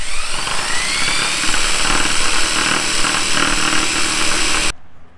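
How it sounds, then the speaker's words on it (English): A jigsaw cuts a post opening in a decking board with a loud, continuous buzzing rasp that holds steady for several seconds and then stops abruptly, with no talking. "Now we'll just take the jigsaw and we'll cut outside the line."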